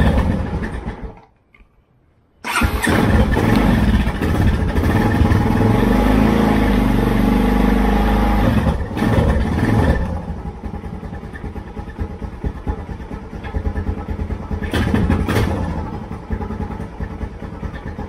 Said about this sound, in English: this is a Honda, and so here's a cold start for demonstration